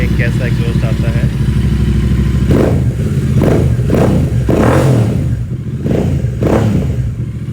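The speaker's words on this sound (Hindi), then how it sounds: "सो अब हमें इसमें थोड़ा सा रेस लेके देखते हैं कैसा एग्जॉस्ट आता है।" A Royal Enfield Super Meteor 650 fitted with a Gursewak exhaust revs in several loud, close blips over a deep, bassy idle, each throttle burst rising and falling in quick succession, with a voice talking over it.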